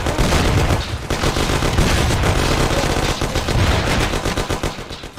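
Dense, loud machine-gun and rifle fire from a 2002 Mafia: The City of Lost Heaven shootout, continuous rapid bursts overlapping without pause.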